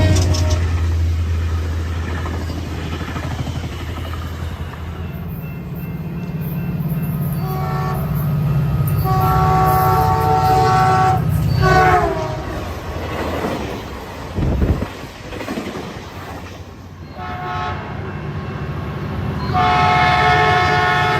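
An MPXpress diesel locomotive rumbles past with a heavy engine drone, sounding its horn in several loud sustained blasts, with clattering railcars and no talking.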